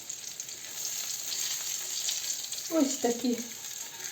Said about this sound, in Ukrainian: А ми будемо смажити далі.